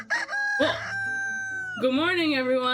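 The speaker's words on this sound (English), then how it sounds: "There's a rooster crowing." A rooster crows close by, one long, loud cock-a-doodle-doo with a rising final note, while a man exclaims and greets people around and over it.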